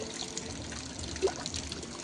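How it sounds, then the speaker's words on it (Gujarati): Water pours from the mouth of a python statue at Tirupati Rushivan adventure park. It makes a steady, close trickle and splash that runs on continuously, with one brief brighter drip. "અજગરના મોઢામાંથી પાણી આવે."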